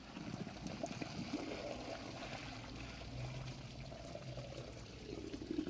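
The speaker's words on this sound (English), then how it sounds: "You put a colander on top and then grip the handles and pour out all the boiling water." Boiling water poured from a pot through a colander into a kitchen sink, a steady rushing splash that runs continuously and fairly close throughout.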